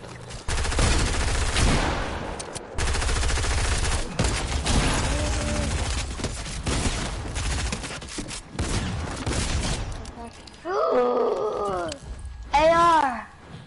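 Assault rifle gunfire in a video game: rapid bursts of automatic shots crackle loudly through most of the stretch, with voices talking over them and a few roaring, growling calls near the end.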